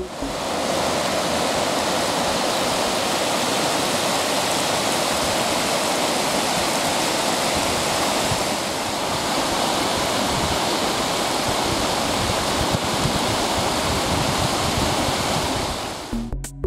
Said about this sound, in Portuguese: Essa água começa a escorrer sobre o solo e se junta com águas de outras nascentes.